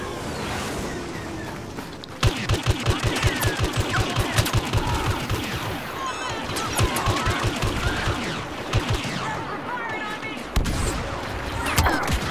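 Rapid automatic blaster fire from Star Wars: Battlefront, in dense continuous bursts after a quieter opening, with brief pauses and a final flurry; a voice is heard faintly in the mix.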